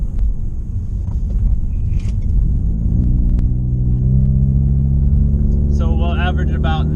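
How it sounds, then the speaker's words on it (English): 2018–2020 Ford Mustang EcoBoost with a new intercooler out on a drive, its engine a constant loud rumble that rises in pitch as it pulls, with a voice briefly heard near the end. "We're taking the Ecoboost out for the final drive with the new intercooler installed."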